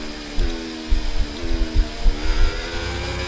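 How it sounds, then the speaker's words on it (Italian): A Formula 1 car engine from the F1 24 racing game runs at a steady high pitch, with rising revs in a few sweeps and some bumps and thumps underneath. "Ma siamo nettamente più veloci di Ricciardo, sia per mescola sia per motore."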